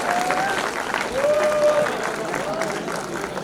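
Steady, close crowd applause fills a 2022 convocation ceremony hall without a break, while a speaker's voice carries over the clapping.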